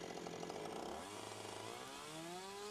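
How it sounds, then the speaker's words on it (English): A chainsaw runs steadily and loudly close by while its bar carves a notch in a log, the engine pitch wavering slightly as the cut proceeds. "we get to stay a good distance away from the scribe line when we're using the chainsaw"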